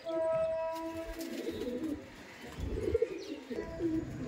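Madrasi pigeons kept at a pigeon seller's loft give soft, low, rolling coos that overlap one another, close by and steady throughout, with no talking.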